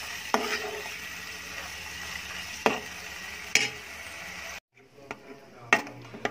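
Raw prawns fry in hot oil in a kadai, giving a soft, steady sizzle close by, broken by a few sharp clinks and knocks of a spoon against the pan and a brief quiet gap.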